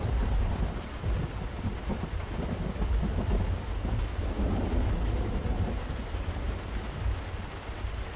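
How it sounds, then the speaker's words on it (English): Steady heavy rain in American Truck Simulator drives a dense, continuous hiss with low rumbling undertones, like a thunderstorm heard from inside a truck cab, loud and unbroken with no voices. "And of course it's raining."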